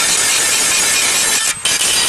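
An angle grinder grinding off a car oil pan, a loud, continuous, harsh high-pitched abrasive whine that holds steady before briefly cutting out near the end.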